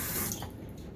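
A tap runs into a sink to wet a hand, a brief close splash of flowing water that fades quickly as the hand passes through the stream.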